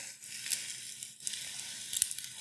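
Eggs frying in a Carote nonstick pan seasoned with barbecue rub, giving a steady soft sizzle with a few brief crackling pops.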